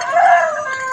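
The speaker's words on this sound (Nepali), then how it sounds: "अनि भालेहरू बासिरहेको छ।" A rooster crows once, loud and close, a single sustained call that swells and then tapers off, with nothing else heard.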